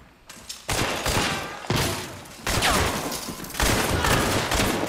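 Silent Sparks rifle shots in Hunt: Showdown ring out as several loud, sharp reports spaced about a second apart, each trailing into a long reverberant echo, with continuous battle noise underneath.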